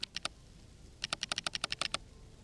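Laptop keys clack inside a simulator game, first in a short burst of three taps, then after a pause in a quick run of about a dozen crisp keystrokes, alone and fairly quiet.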